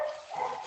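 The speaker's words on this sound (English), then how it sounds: "Somebody's dog is in the background." A dog barks once, short and somewhat muffled, in the background of an indoor room, with no talking.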